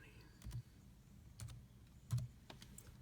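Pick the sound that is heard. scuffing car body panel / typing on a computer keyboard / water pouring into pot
typing on a computer keyboard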